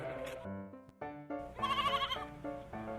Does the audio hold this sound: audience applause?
no